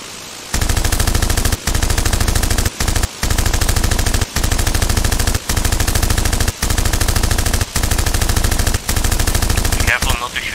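World War One fighter planes in an Arma 3 dogfight fire their machine guns in long, loud rapid bursts, cut by brief pauses roughly every second, with no talking over the gunfire.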